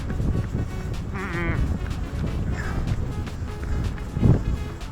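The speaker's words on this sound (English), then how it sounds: "It's crazy windy." Strong wind buffets the microphone in a constant roar of low rumble during an outdoor run, with brief faint voices and a short tonal squeak partway through.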